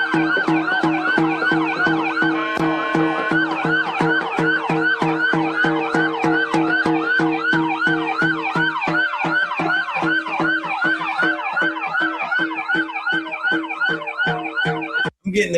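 A wailing emergency vehicle siren cycles rapidly and continuously, loud and close, its rising and falling yelp repeating steadily for the whole stretch with no voices over it.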